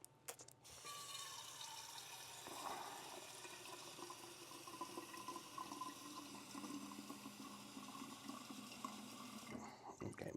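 Water pours into a coffee dispensing carafe as it is filled, a steady broadband rush running nearly the whole stretch with a brief stop near the end and no talk over it.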